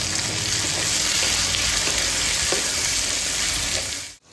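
Garlic fries in a hot pan with a dense, continuous crackling sizzle up close that cuts off abruptly at the end.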